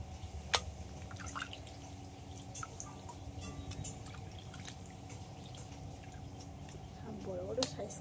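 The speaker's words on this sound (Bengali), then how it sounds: "মাটনগুলো ভালো করে ধুয়ে নিচ্ছি" Large pieces of raw mutton are rinsed in water in a kitchen, producing faint, sparse drips and soft splashes with occasional sharper clicks against a quiet background.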